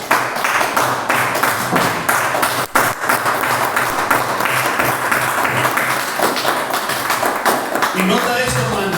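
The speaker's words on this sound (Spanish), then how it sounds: "¿Por qué no nos levantamos, hermano, y le damos un aplauso al Señor?" A church congregation on its feet applauding in praise, with dense, steady clapping filling the room at close range, mixed with voices and cheers throughout.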